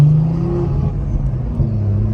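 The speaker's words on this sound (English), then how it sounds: "My car is so loud." A loud BMW car engine rumbles and revs steadily at close range, a deep continuous drone with slight swells in pitch and no talk over it.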